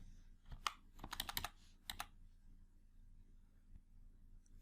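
A brief burst of computer keyboard keystrokes while entering a spreadsheet formula, several quick close clicks clustered together, then quiet.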